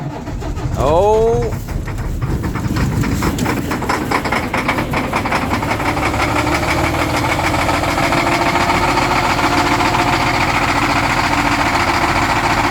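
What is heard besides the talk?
car engine cold starting after a week parked at -30C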